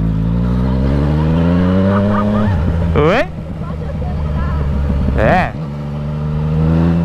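A motorcycle engine runs loud and close while being ridden, droning steadily and rising and falling in pitch with two quick revs, as people talk over it.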